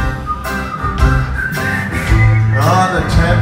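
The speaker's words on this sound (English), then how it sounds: "Let's whistle." Someone whistles a short, wavering tune nearby, with some clattering and other noise in the background.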